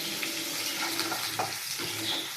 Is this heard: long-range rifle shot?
no